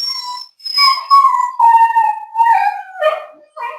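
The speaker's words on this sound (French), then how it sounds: "c'est des chiens qui chantent" Several dogs howl together in long, wavering, pitch-sliding tones, loud and close, with brief gaps between the drawn-out cries and a final rising yelp-like howl.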